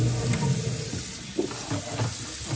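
Lobster tails are rinsed under a running kitchen tap, with steady close splashing and hissing water throughout and small bumps of handling.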